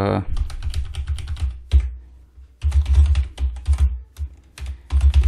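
Computer keyboard keys typed in quick bursts while filling in an online payment form with an email address, clicking steadily with short pauses between runs, close and moderately loud.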